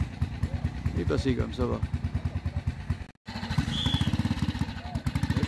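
A vintage trial motorcycle ridden at a trial event in Lure, its engine popping in a rapid steady rhythm close by, briefly cutting out before picking up again, with someone talking over it.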